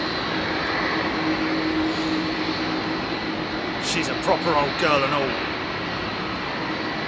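A Boeing 757 powered by Rolls-Royce RB211 jet engines roars steadily at Heathrow Airport, a broad continuous rumble throughout, while a person talks briefly over it near the middle.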